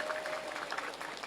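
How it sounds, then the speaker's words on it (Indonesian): Audience at a women's religious study gathering applauds for muslimat Langansari, a brief burst of steady clapping from a crowd in a hall, fairly close and without talk. "Tepuk tangan dulu buat muslimat Langansari."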